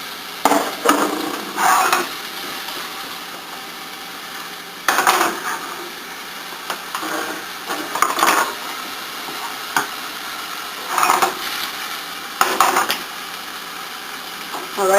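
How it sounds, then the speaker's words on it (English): A knife is banged against the rim of a frying pan during stuffed-tomato prep, sharp metallic knocks in small clusters spaced a few seconds apart, close by, over soft kitchen background. "don't ever bang your knife at the edge of the pan like I just did."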